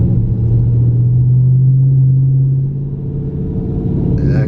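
A car fitted with a Legmaker True cold air intake drives along a quiet road, its engine giving a steady, loud low drone that rises slightly and then eases, with no talk over it.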